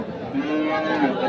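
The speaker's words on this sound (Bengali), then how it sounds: "বলদটা চমৎকার একটি বলদ গরু" A bullock lows at a village cattle market in Ambarihat, Dinajpur, Bangladesh, one long drawn-out moo with a second rise near the end, close and fairly loud over faint crowd chatter.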